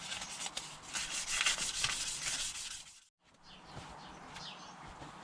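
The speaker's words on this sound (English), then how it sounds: "all sanded down with 400 grit" An alloy wheel being hand-sanded with 400 grit sandpaper, a close, rhythmic rasping rub in quick repeated strokes that stops briefly, then resumes more softly, with faint birds chirping in the background.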